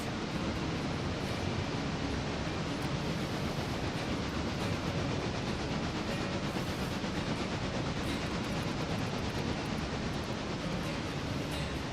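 A locomotive runs in the Railroader video game, giving off a steady, dense rumbling rush of rolling wheels and machinery that holds constant and loud, with no voices.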